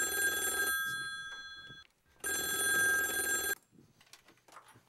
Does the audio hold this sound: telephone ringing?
yes